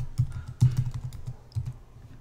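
Fingers type a password on a computer keyboard in a short burst of quick, close, fairly quiet key clicks, with no one speaking.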